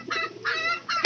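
Laying hens cluck close by in a few short bursts, the third louder and sharper than the first two, with no voices around.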